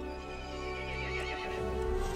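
A horse in the video game Resident Evil Village gives a loud, close, drawn-out neigh with a wavering whinny lasting about two seconds, heard alone without talk.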